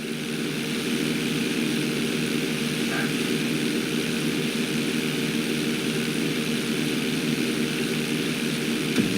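A propeller airplane engine roars steadily during takeoff on a runway at flight school in Grand Theft Auto V, a loud continuous drone holding level throughout without breaks.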